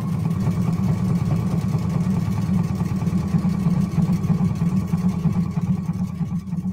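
A sewing machine runs continuously as it stitches fabric, a steady close motor hum with a fine rapid mechanical rattle, unbroken throughout and with no talking.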